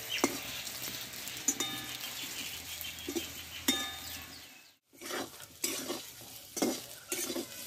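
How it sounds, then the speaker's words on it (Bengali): Brinjal frying in a pan while a spatula stirs it, with soft sizzling under scraping strokes and light metallic clinks, quiet and close, with a brief lull midway. "বেগুনটা কষা হয়ে এসছে, আর কিছুক্ষণ আমি নাড়াচাড়া করে একটু ভেজে নেব।"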